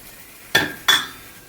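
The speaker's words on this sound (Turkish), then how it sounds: "Yavaş yavaş çorbama ve çorbamı sürekli karıştıracağım." A wire whisk clinks twice against the rim of a pot while stirring egg-and-lemon liaison into chicken broth soup, two short bright metallic taps close together in an otherwise quiet kitchen.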